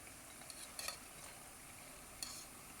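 Rice flour and urad dal janthikalu fry in oil over a low flame, making a faint, steady sizzling hiss with a few soft crackles and no voices.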